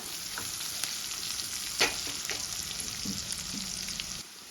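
Onions fry in a pan for a Marathi methi bhaji, with a steady close sizzle and an occasional scrape or tap of a spatula, ending suddenly.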